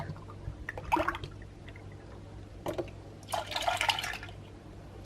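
Milk poured from a container into two mugs, heard as a couple of short, splashy liquid bursts close by with quiet pauses between them.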